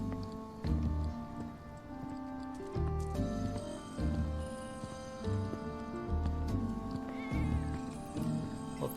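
Cats meow in the video game Final Fantasy VII Remake, with repeated mewing calls over layered game music and ambient sound, fairly clear and close throughout.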